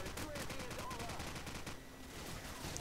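Rapid bursts of gunfire and shooting in Call of Duty 4 on PC, with grenade blasts mixed into the dense, continuous noise of a close-range firefight that runs the whole time.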